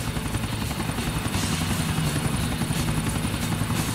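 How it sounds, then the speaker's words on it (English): A helicopter in the video game Grand Theft Auto IV flies steadily with a constant whirring rotor drone, held at an even level for the whole stretch, with no talk over it. "he don't want to be responsible for a helicopter crash in Middle Park"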